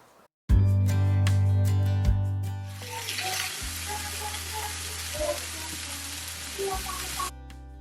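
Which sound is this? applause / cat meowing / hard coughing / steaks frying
steaks frying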